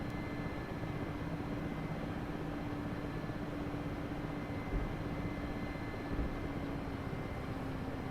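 A helicopter flying in a video game, a faint, steady, distant rotor and engine drone with no talk.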